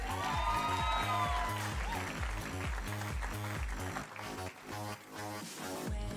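Steady applause from a pageant crowd, sustained for several seconds over loud, pounding music with a strong beat.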